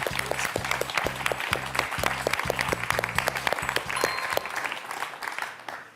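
A studio audience on a French quiz show claps for a winning candidate, a dense, steady round of applause with rhythmic clapping underneath that fades toward the end.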